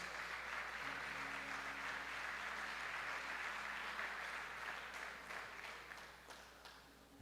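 A church congregation applauding during a worship service, a steady wash of many hands clapping over a low hum, gradually thinning and fading toward the end.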